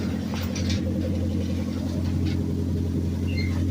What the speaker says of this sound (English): It's idling really nice.